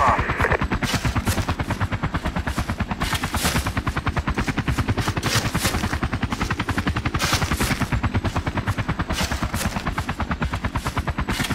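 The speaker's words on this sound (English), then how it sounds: "Chopper north, 345. It's coming into the valley right now." Helicopter rotor chop in a military video game, beating steadily and loud throughout amid rapid machine-gun bursts and scattered gunfire, with no talk.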